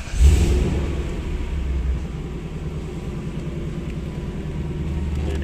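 An older Lexus SC430 with TPMS and VSC warning lights on starts with a brief burst, then settles into a steady, low, close engine rumble at idle.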